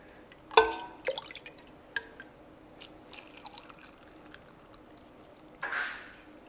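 Brine poured into canning jars of coleslaw, heard as a few short splashy drips and trickles spaced apart, close by and fairly quiet, with a brief louder pour near the end.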